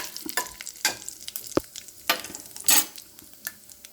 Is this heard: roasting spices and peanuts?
yes